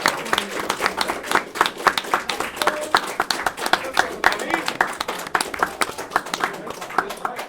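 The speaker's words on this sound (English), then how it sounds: "Let's get a clap for that." An audience applauding after a grand finals win at an Ultimate Smash Bros singles tournament, steady clapping from a modest crowd with a commentator talking over it.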